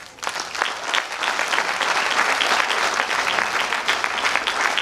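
Loud, sustained applause from an audience at a company's second anniversary celebration, dense clapping running steadily throughout with no break.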